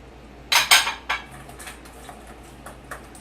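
Butter and chocolate stirred together in a bowl: a few sharp utensil scrapes and clinks against the bowl, strongest early, then lighter intermittent taps, close and without talk.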